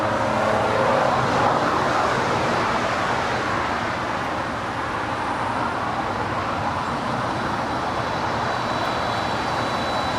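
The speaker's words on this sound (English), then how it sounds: "And Moss Air Cargo 767-200 now finalizing her taxi here on the south side." An Amos Air Cargo Boeing 767-200 taxis on the south side of LAX, a steady broadband jet roar holding at constant loudness for the whole stretch, blended with ambient airport and road noise and no talk.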